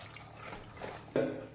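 Water splashes into a cooking pot with turmeric and rock salt, a short liquid pour starting abruptly after a moment of soft background noise, close and moderately loud.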